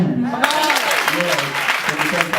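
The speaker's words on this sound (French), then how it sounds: "Donc, on acclame pour Jésus." A church congregation claps for Jesus during a sermon, producing a burst of dense crowd applause that starts abruptly and carries on steadily, with a voice talking over it.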